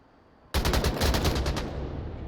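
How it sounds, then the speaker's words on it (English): PKM machine gun firing in Onward VR, a sudden loud burst of about nine fast, evenly spaced shots that ends with a fading echo. "Headshot with a PKM"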